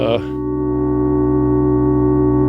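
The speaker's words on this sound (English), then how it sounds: "Two sine wave oscillators and" Steady, pure sine wave tones from an Instruō glōc synthesizer module hold a sustained chord with a faint wavering shimmer, loud and continuous after a brief voice at the start.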